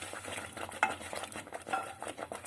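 Roasted cashews stirred into a thick jaggery rice sweet in a pan, with a steady run of close scraping and stirring strokes and no talking.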